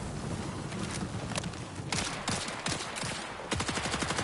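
Rapid automatic gunfire from the Marathon video game on PS5, dense overlapping bursts of shots with sharp repeated cracks that grow louder toward the end, loud and close throughout with no talking.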